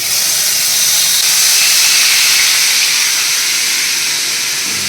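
A loud, steady sizzle of onion paste frying in hot oil, an even hiss that continues without pause.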